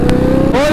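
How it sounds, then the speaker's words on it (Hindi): A Kawasaki ZX-10R motorcycle engine revs loudly up close for a brief moment, its pitch rising slightly at the end. "आमिर भाई की बाइक भी बाहर आ चुकी है भाई"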